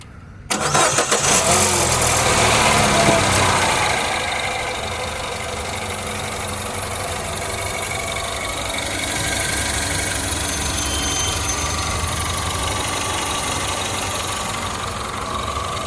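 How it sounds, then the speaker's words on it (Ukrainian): A 2012 Peugeot RCZ engine cranks and fires up, revs briefly, then settles into a steady idle with a faint high turbo whine over the rumble; no voices. "О, турбіна працює."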